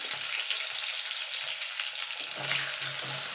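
Brinjal pieces frying in oil with salt and turmeric give a continuous close sizzle, with a few low clunks of the pan near the end and no talking.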